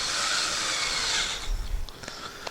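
A screw driven into a flat-pack Ikea Pax wardrobe panel, a dense grinding whir for about a second and a half, then a few short knocks and creaks, close by with no talk.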